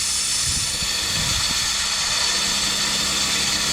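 A bus engine with oil squirting from a leaking injector runs loud and steady, a constant hissing roar with a low idle rumble underneath and no voices.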